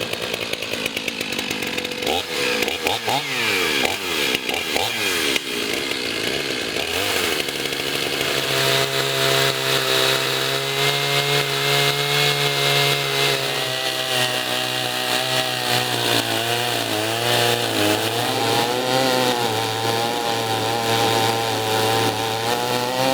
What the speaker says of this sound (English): Now we gotta cut this thing.